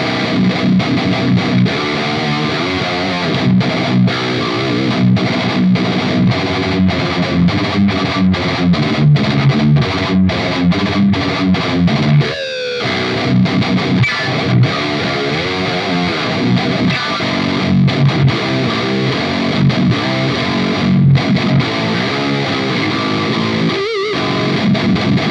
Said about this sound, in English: Now that kind of distortion and breakup for me is wonderful, excellent